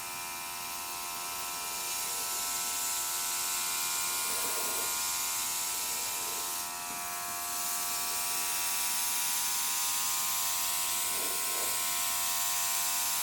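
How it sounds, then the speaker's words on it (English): An airbrush sprays colour along the carved grooves of a wood-effect cake board, giving a steady close hiss with a faint mechanical whir that holds almost unbroken throughout. "I'm going to start applying colour by just running the airbrush down all of the grooves"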